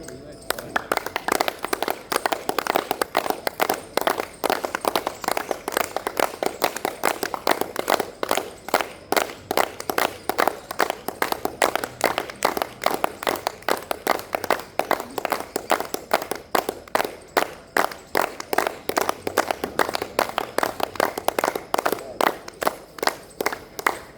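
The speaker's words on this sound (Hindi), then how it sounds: "ताली बजाते हैं।" A group claps hands together in a steady, rapid, continuous rhythm. The clapping is loud and close and runs the whole time, and no voices break through.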